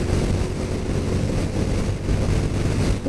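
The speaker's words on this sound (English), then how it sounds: "You hear that engine, it feels like it shouldn't be smooth, but it is." A 2022 Honda Super Cub 125 motorcycle engine runs steadily while riding, a continuous loud, even drone with wind rush and no pauses.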